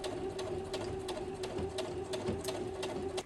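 A sewing machine stitches the outer fabric layer of a book sleeve, running steadily and close for the whole stretch with a constant motor hum and rapid needle ticks, no talking.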